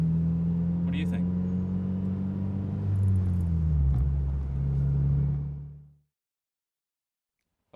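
Steady low road and engine drone inside a Mazda NC Miata cruising with the top and windows up, a constant hum with a slight pitch drop partway through, ending abruptly in silence.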